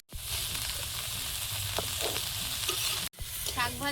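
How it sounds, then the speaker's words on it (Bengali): Five kinds of mixed leafy greens, with fried shrimp, stir-fry in a pan with a loud, steady sizzle and stirring scrapes. After a short break the frying resumes under a brief voice. "শাক ভাজা রেডি, এবার তুলে নেব।"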